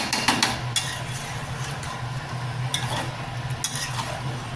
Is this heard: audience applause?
no